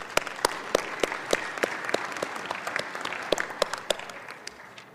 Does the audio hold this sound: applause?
yes